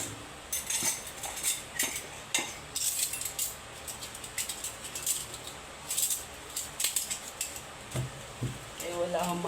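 Dishes and cutlery clink and clatter in a steady run of close metallic taps during handwashing, with a person talking intermittently over the clatter.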